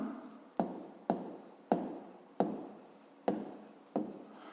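Pen or pencil strokes writing out a fifth-grade math solution on paper, in six short scratchy bursts at a steady rhythm, close and quiet, with no voices.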